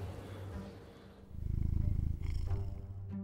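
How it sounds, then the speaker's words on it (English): A cat purring in the PuppetShow: The Curse of Ophelia hidden-object game, a low steady rumbling purr that swells louder midway and keeps going to the end over faint game background. "Oh, the kitty cat is purring"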